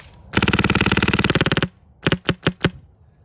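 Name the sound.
tuned Polarstar airsoft gun firing BBs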